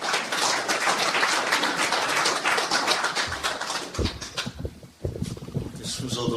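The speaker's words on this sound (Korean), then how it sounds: "많은 박수 부탁합니다" An audience at an LA general assembly gives a dense round of applause that fades after a few seconds, followed by a voice speaking over a sparse scattering of claps.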